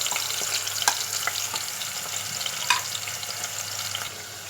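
Ginger slices, tomato and green chilies sizzle in a pan for urad dal, a continuous close frying hiss with a few soft clicks and stirs, no voices.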